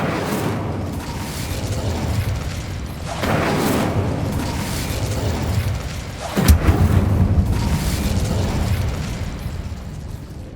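Incendio fire spell cast in Hogwarts Legacy, a loud rushing burst of flame over a rumbling game soundscape, with a sharp booming impact midway and continued roaring blaze afterward.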